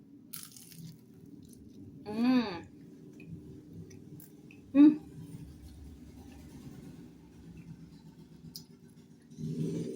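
Two distinct crunchy bites into cooled Indonesian fried snacks (gorengan) at close range, each followed by quiet chewing in an otherwise hushed room, with a soft rustle at the end.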